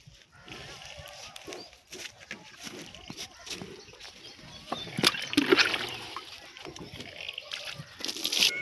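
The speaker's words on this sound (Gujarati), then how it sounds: "હવે ભેંસો નવરાયનો છે આપણે" Buffaloes being bathed on a farm during hot weather, with water splashing and sloshing in irregular bursts over outdoor background noise, louder around the middle and end.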